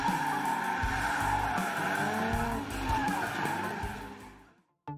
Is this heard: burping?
no